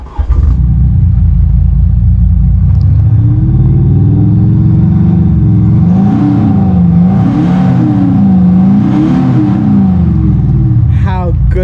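A 2.5 litre diesel engine idles loud and close, then revs up and down in several rising and falling swells with a deep burbly tone, a voice speaking briefly over it.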